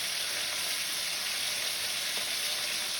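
Pomfret fish frying in a pan, a steady close hiss of hot oil sizzling throughout with no pauses.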